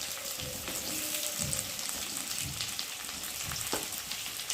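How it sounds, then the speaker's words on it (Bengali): Potatoes fry in a pan for a fish curry with ridge gourd, a steady close sizzle with a few louder crackles and stirring scrapes, no voices. "একটু ভেজে নেব আলুগুলো প্রথমে ভেজে নেব"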